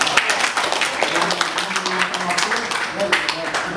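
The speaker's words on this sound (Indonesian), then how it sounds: "Kita tepuk tangan dulu untuk Ibu Wali Kota." Audience clapping in a meeting hall on an agrarian conflict for the city's female mayor, a moderate burst of individual claps with a few voices murmuring underneath.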